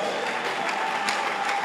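A church congregation applauds during worship, a steady dense wash of clapping that holds evenly from start to end with no pauses.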